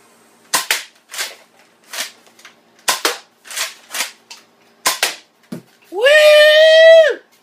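A Coop772 Strayven foam dart blaster fires nine sharp, close shots in an uneven rhythm, followed by a sustained whining motor tone at the end.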